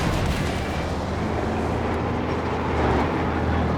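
A howitzer in the real-time strategy game Company of Heroes 2 fires, producing a dense, rumbling low boom that rolls on with a noisy tail for several seconds, loud and without speech.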